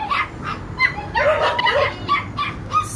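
Several pet dogs and puppies in a home bark, yip and whimper in quick, overlapping bursts, close and fairly loud throughout.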